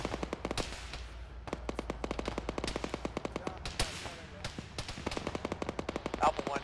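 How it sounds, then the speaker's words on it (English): Bursts of automatic gunfire in the ArmA military shooter during a ShackTac squad operation, rapid sharp cracks in fast rhythmic strings, loud and close, with a radio voice briefly talking over the shots. "Taking fire from the south, southwest one."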